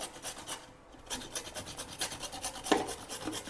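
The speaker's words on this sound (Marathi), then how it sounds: "आता मी हे सगळे गाजर पटकन किसून घेतो" Fresh carrots being grated by hand for gajar halwa, giving a close, rhythmic scraping rasp of quick repeated strokes with a brief pause near the start; no talking.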